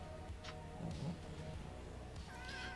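A domestic cat, a shy big male, makes a few soft meow-like calls close by amid handling noise and low background sounds, with no talk during the moment.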